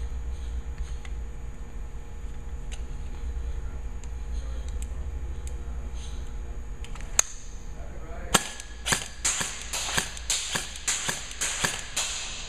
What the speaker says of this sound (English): So let's shoot it a little bit.